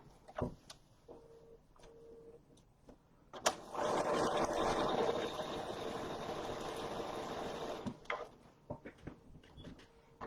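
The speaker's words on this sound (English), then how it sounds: "We're going to sew it." A sewing machine runs one steady, continuous stretch of stitching on a foundation paper pieced daisy quilt block, with quieter handling clicks and taps before and after.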